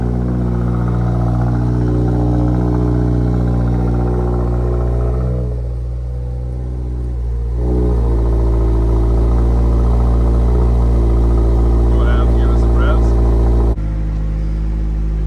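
A VB Subaru WRX with an AWE Touring cat-back exhaust and an aftermarket intake, running on E30, its engine rumbling loudly with a deep steady drone that dips briefly and then rises again.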